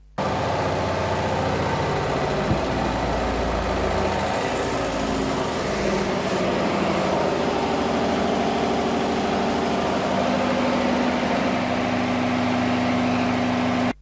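An internal combustion engine runs steadily with zero dynamometer load during a heat balance test, giving a continuous loud drone and hum with constant level for the whole stretch, no voices.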